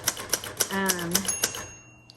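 1977 Royal Sabre typewriter struck in a quick series of sharp mechanical clacks, close and fairly loud, while a person speaks briefly over the middle of the typing.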